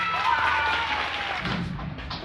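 A school audience at an elementary peace pole and mural dedication claps steadily as a second grade student is welcomed, a dense, even patter of many hands filling the space before fading out.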